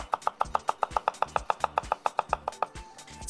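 Ginger is chopped with a knife on a board in a fast, steady run of about twenty sharp, close strikes that slow slightly toward the end.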